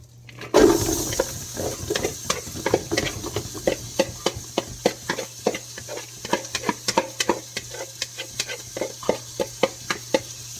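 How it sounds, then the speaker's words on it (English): Diced onions dropped into melted butter in a soup pot for chicken noodle soup, a steady close sizzle with repeated sharp scraping stirs in a regular rhythm, no voices. "And then we're going to add our diced onions."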